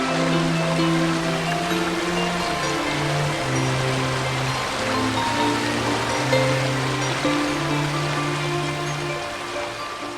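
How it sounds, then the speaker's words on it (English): In an audio drama scene, rushing flood water surges over someone as a steady, loud broadband roar of churning water, with droning tonal underscore notes beneath, sustained without pause and without speech. "Water washes over you, over your face, over your body, pushing you down, pushing you back"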